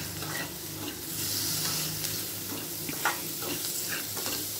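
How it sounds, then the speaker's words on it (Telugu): Chili powder mixture sizzles in a hot pan while it is stirred, a steady close frying crackle with spoon scrapes and small pops, no talking. "ఇప్పుడు మంచిగా ఇది ఫ్రై చేసేసుకుందాం."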